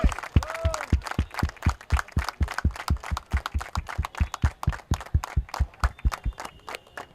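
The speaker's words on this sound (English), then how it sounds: "A big round of applause for all the family members." Steady, rhythmic hand clapping from an audience at a prize distribution event, honoring family members. Loud, evenly spaced claps continue without pause and no voices are heard.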